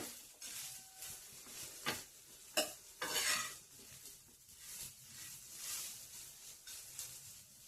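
Bitter gourd pieces being tossed with salt in a bowl give a steady run of close, soft stirring and scraping with occasional sharper clinks of utensil on dish, with no voices.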